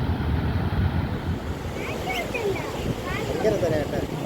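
Sea surf rolls and breaks on a beach where a fishing boat is being pushed out into the sea, a loud continuous wash with wind buffeting the microphone and a voice talking faintly.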